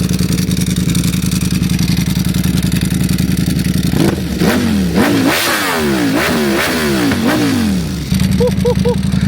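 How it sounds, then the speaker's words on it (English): Ducati Panigale V4 SP2 superbike with a Stage 2 ECU flash, loud and close, idling with a steady drone and then blipped through several sharp rising and falling revs before settling back to idle. "When you hear that, you just know it's a Ducati"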